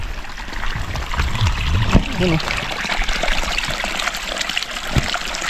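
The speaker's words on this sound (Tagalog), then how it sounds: "Lakas ng tubig." Strong rushing water at a Mindanao waterfall, a steady close wash of splashing flow, with someone speaking over it and occasional handling bumps.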